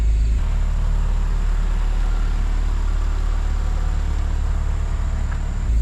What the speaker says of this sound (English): That's just to warm it up, warm the engine up